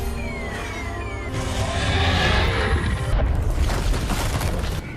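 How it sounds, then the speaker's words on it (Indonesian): The Striker Eureka robot explodes in Pacific Rim in a broad, rumbling blast that swells after a thin whine and rolls on loudly for several seconds before cutting off sharply. "setelah itu mereka meledakkan Striker Urika."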